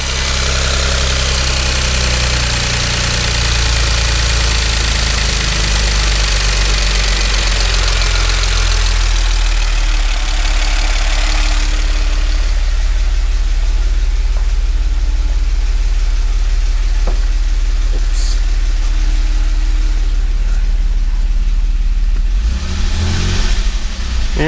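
A 2011 Audi S4 B8 car engine runs loudly and continuously, idling with a deep rumble, rising and settling in revs, with no talking.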